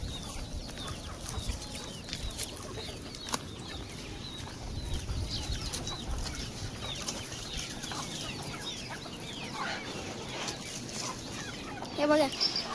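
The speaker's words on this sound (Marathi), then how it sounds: "हे बघा तर मामा आता कोंबड्यांना हे गहू टाकतोय" Farmyard chickens clucking and scratching as wheat grain is scattered for them, busy overlapping clucks with occasional sharper calls near the end, a voice speaking at times in the background.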